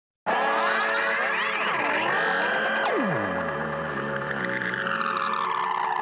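Swooping, squealing electronic tones bend and glide after an abrupt start, a guitar amp self-oscillating into sustained feedback-like howls and drifting pitches.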